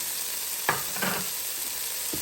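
Carrots sautéing in a Power XL cooker for lobster fried rice, giving a steady close sizzle with a few sharp stirring scrapes and clatters.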